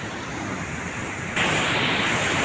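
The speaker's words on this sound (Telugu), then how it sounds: "కింద వాటర్ పారుతుంది, సౌండ్ కూడా మీకు వస్తున్నట్టుంది" Water rushes below the Konam reservoir dam in a loud, continuous broadband roar that jumps in intensity halfway through, steady and unbroken with no talking.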